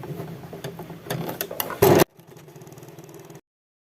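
Sewing machine stitching the bottom seam of a cotton chintz apron, a loud steady mechanical whir running in bursts for about three seconds and then stopping, with no talking.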